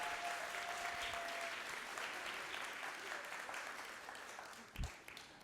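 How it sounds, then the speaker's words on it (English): Audience applause at a regional morning gathering, a steady wash of clapping from many hands that slowly fades, with a brief low thump near the end. "Let's give a big round of applause for them, too."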